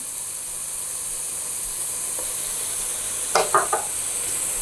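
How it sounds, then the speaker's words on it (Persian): A spoon stirs a stuffing of barberries, pomegranate paste and saffron water for an oven-baked stuffed trout, giving a few brief soft scrapes over a steady background hiss. "و شروع میکنیم به هم زدن کلیه موادمون."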